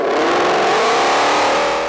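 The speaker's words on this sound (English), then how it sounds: "the sound of a V8 is one of the biggest reasons people are drawn to muscle cars" A loud V8 engine revs and roars steadily, its pitch rising slightly, close and continuous with no talk.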